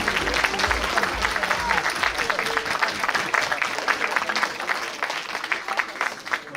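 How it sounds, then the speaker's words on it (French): A crowd applauds at the finale of a children's star show, steady clapping from many hands at moderate volume with some voices mixed in, tapering slightly toward the end. "vous pouvez les applaudir sur le retour"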